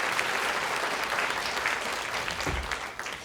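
An audience in a cultural center hall applauds steadily, a dense wash of clapping hands that holds throughout and starts to thin toward the end, with a faint voice underneath.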